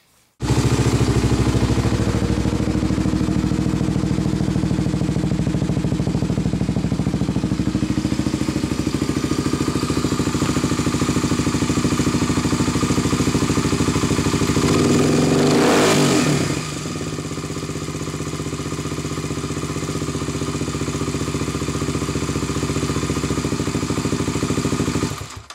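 The engine of a 2007 Kawasaki KLX 250 runs close by after a cam chain tensioner fix: a steady idle with one brief rev midway, then it settles back to a lower idle.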